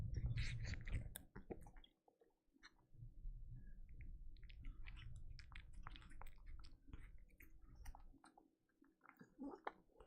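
A cat eating its food up close, with steady wet chewing and squishy, gargly mouth sounds continuing throughout at a quiet level.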